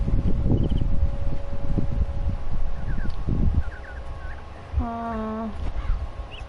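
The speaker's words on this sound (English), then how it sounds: "the rooster crowing." A rooster crows once in Sherlock Holmes: Crimes & Punishments, a short rising call standing out over a windy outdoor ambience with rustling and distant birds.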